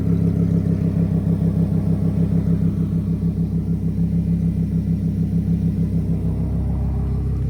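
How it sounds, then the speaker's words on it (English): A Lamborghini V10 idles close by with a low, steady rumble and a fine pulsing throb that holds evenly throughout, easing slightly near the end. "V10 engine, still got a temp tag on it right now."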